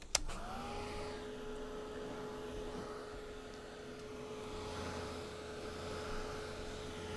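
A hair dryer clicks on and blows steadily to dry paint on a poppy painting, a continuous whooshing whine with a steady tone, moderately close and alone.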